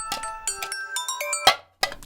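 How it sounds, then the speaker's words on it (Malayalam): A phone ringtone plays a bright, melodic electronic tune in quick repeated notes, loud and close, stopping briefly before starting again. "ദാണ്ട് ഫോൺ ബില്ലടിക്കുന്ന ആരാ നോക്കളെ"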